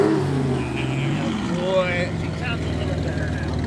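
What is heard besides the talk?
sports car engine revving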